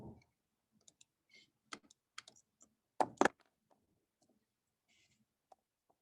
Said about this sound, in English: I'm going to type that into a calculator.